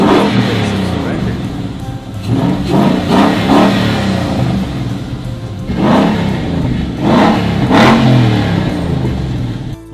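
A damaged million-dollar supercar's engine runs and is revved in repeated bursts, each swell rising then dropping back to a rough idle, loud and close, with voices talking over it.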